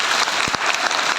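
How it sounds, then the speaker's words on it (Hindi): A seminar audience at a motivational talk in Mumbai bursts into loud, dense applause, steady broadband clapping filling the short stretch with a couple of sharper low thumps midway. "तो आप सब अपने लिए जोरदार तालियां बजाइए।"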